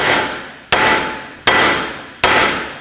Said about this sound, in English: we're going to grab a hammer and tap around this area just to break this loose